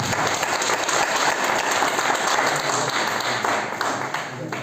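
Audience at a business seminar bursts into dense, sustained applause, a thick continuous wash of many hands clapping at once, loud and steady throughout.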